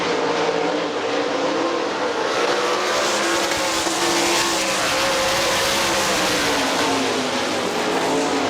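Sprint cars in a GLOSS series race at Hartford Speedway Park. The roar of their engines is loud and continuous, rising and falling in pitch as the pack sweeps past and through the corner.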